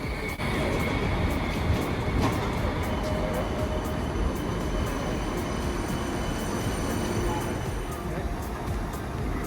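Steady loud rumble of a Canberra light rail tram rolling along rails, with wheel noise and faint squeals throughout, heard from inside the carriage.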